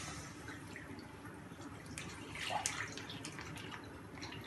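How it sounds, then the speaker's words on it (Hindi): Full-fat milk poured from a packet into a pan warming on a gas stove, a soft continuous liquid pouring and splashing that swells slightly midway, with no talk. "अब इसमें हम मिल्क डालेंगे अपना,"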